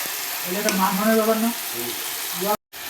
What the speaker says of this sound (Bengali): ভালো করে নেড়ে দেবো, মিক্স করে দেবো খুব ভালো করে